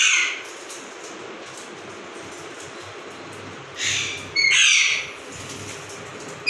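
Alexandrine parakeets in a breeding setup give harsh, loud squawks, one at the start and then a pair of raucous calls near the end, with a quiet background between them.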